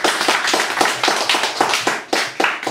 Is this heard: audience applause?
yes